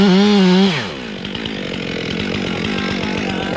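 A chainsaw cuts low through a tree trunk near the stump beside a pond dam, the close, loud engine dropping from a high whine into a steady bogged-down buzz as the chain bites into the wood.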